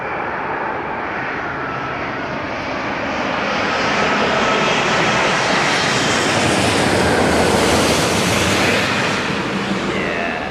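A large fixed-wing airliner makes a heavy landing, its jet engine roar steady and loud throughout, swelling further in the second half with broadband rushing noise and no voices.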